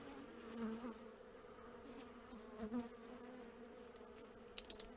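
A steady, droning hum of many honey bees buzzing close by at a hive during transfer to a new hive, with slight swells in pitch and loudness and no voices.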